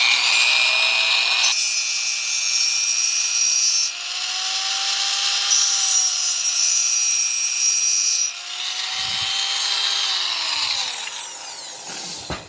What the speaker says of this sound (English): use my handy dandy tungsten grinder.